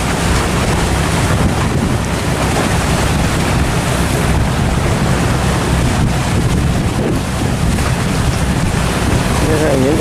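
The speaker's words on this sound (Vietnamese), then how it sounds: "Những con sóng nó nhấp nhô thì nó rất là dữ luôn nha" Rough ocean waves surge and slap around a fishing boat at sea. Loud, steady wash of water and heavy wind rumble against the microphone, continuous throughout.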